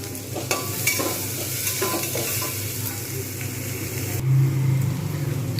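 Ground coriander, cumin, chili and turmeric masala for egg tarka sizzles in a hot pan while a spatula scrapes and stirs it in steady, repeated strokes under a constant frying hiss.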